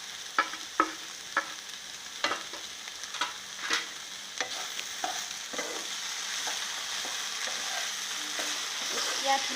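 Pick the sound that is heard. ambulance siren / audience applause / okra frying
okra frying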